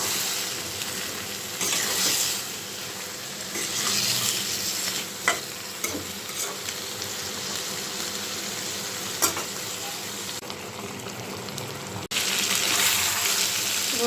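Meat frying with spices in a pan, a steady loud sizzle with stirring scrapes and a few clinks throughout, alone without talk.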